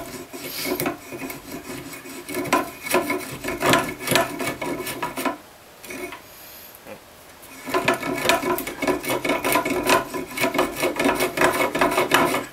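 A saw is drawn in rapid, rhythmic rasping strokes across wooden plugs, cutting them flush, pausing briefly in the middle before the strokes resume.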